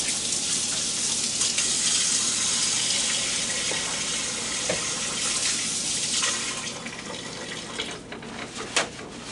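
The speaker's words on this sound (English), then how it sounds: "I'm going to wash my hands real quick" Steady running water from a kitchen tap rinses hands at a sink, a continuous close gush that holds for most of the stretch, then thins and splashes unevenly near the end.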